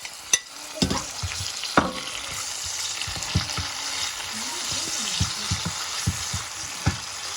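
Green chilli and chopped tomatoes go into a hot pan of oil for egg fried rice, setting off a steady close sizzle and frying hiss, punctuated by sharp clinks and scrapes of stirring, with no voices.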